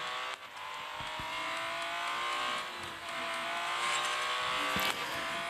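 Ferrari race car in the video game Real Racing 3, an engine droning and whining through gear changes with steady revving, moderately quiet with no voices.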